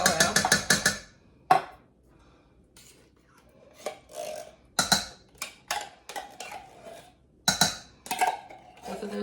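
Tomato soup scraped out of cans into a hamburger casserole mixture: a run of quick metallic scrapes and clinks from a utensil against the can, then scattered scraping strokes separated by short pauses, close and clear.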